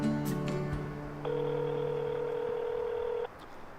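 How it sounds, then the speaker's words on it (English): A mobile phone places a call: a quick series of short dialing tones followed by a steady, sustained electronic tone for about two seconds, heard alone and fairly quiet. "I'm going to see if the phone works, and I'll give her a call."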